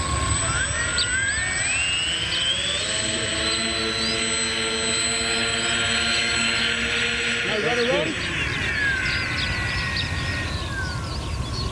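RC model airplane on its first test flight, a steady buzzing engine whine holding throughout and shifting in pitch as it passes, heard over loud wind noise with people talking nearby.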